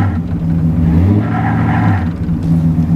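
A 1989 Winnebago LeSharo RV engine revs hard as it strains to pull out of a hole, a loud, close, rising and falling drone with rumbling harmonics and no talking.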